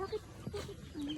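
Chickens at an old family house in the Philippines cluck in short soft bursts close by, several brief calls spread across a moment with no talk over them.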